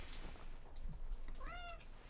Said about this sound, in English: And Basil meowing in support.